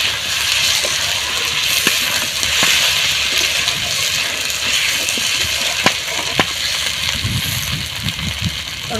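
Potatoes and onions frying in oil with ginger-garlic paste in a pan for golden fish curry, a continuous hissing sizzle with occasional sharp clicks and stirring scrapes close by.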